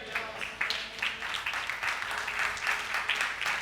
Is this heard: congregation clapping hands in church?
yes